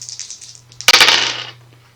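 Dice for a Shadows of Brimstone board game attack clatter and tumble onto a surface, a sudden loud rattle that quickly settles and fades, following some faint light tapping, with a low steady hum underneath.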